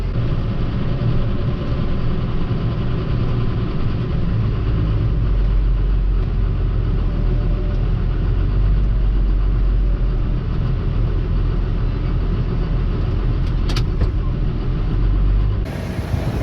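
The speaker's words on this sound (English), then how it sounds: "I'm gonna drive the tractor over there" A tractor engine rumbles steadily and low throughout, driving at a constant pace during a wheat harvest, with no talking.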